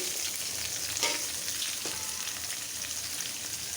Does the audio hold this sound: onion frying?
yes